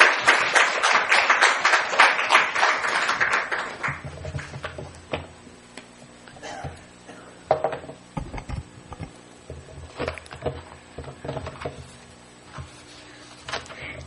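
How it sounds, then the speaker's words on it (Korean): Applause from a church congregation at a Wednesday Bible study service welcoming a pastor, loud dense clapping for a few seconds that thins to scattered claps and rustling. "박수 부탁드리겠습니다."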